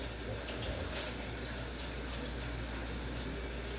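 Tap water running steadily into a kitchen sink while hands are washed, a constant soft hiss and gush close by with no talk.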